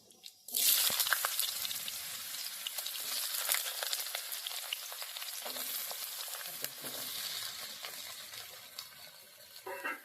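Sliced potatoes hit hot mustard oil in a wok with dried red chili and black cumin, bursting into a loud sizzle that settles into steady crackling and spitting, with no voices.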